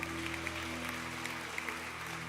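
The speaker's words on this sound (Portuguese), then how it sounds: "Aplausos ao Senhor." A church congregation claps in praise, a fairly faint, continuous patter of hands over a sustained low musical hum.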